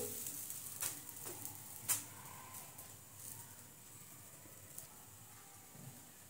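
Soft, steady sizzling hiss of a jowar (sorghum) bhakri flatbread cooking on a hot griddle, with a few faint clicks and taps and no voices.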